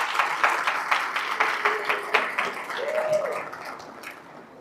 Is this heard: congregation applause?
yes